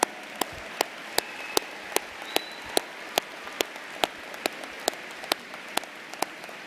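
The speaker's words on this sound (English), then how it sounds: "Please give your student leaders a round of applause." Commencement ceremony clapping for graduating engineering student leaders, heard as faint, sparse sharp claps in a steady rhythm of roughly two to three per second rather than a full crowd ovation.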